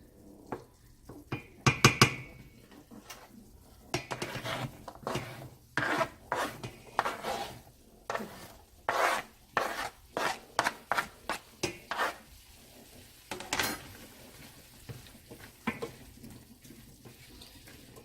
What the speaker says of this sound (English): I'm going to go ahead and throw the onions in there so they can start cooking as well